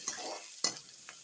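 Green chillies sautéing lightly in a pan for tomato kadaiyal: soft stirring scrapes and a gentle sizzle, quiet and close, with a few sharper utensil clicks and no talking.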